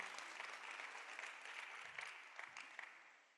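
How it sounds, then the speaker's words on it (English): Audience applause at a youth lab kickoff ceremony in Addis Ababa, Ethiopia, a steady round of clapping from a moderate crowd that fades out after a few seconds. "Another round of applause to our commissioner."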